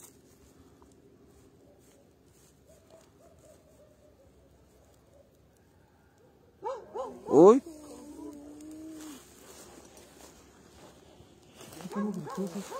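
A dog yelps in a sharp, loud burst, then whimpers in thinner, wavering cries, heard outdoors in a quiet setting with people talking faintly before and after.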